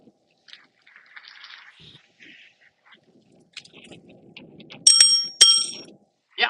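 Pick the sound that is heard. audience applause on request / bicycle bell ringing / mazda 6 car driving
bicycle bell ringing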